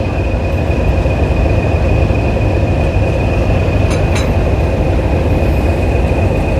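Heritage train on the Epping & Ongar Railway, a steady loud rumble of a locomotive and carriages with a constant high whine running throughout and a couple of brief sharp clanks near the middle.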